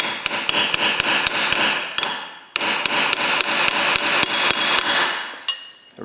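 Sharp metallic hammer blows strike a Subaru rear wheel bearing, a rapid steady series of loud, close ringing hits with a short pause midway, then stopping.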